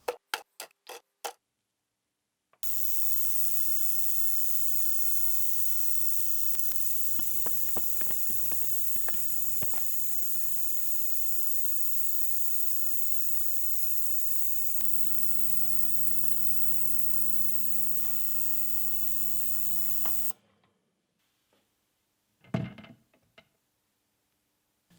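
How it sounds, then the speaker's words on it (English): An ultrasonic cleaner holding Stahlwille sockets runs with a steady, even hum and high hiss for most of the stretch, with faint rattles and ticks over it. A few sharp clicks come before it and some knocks follow once it stops. "everything goes into the ultrasonic cleaner for a quick blast"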